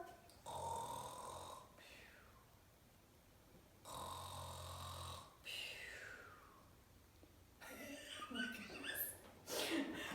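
Several preschool children imitate snoring in long, drawn-out rasping breaths, a couple of separate snores followed by a busier, overlapping burst of snorting sounds.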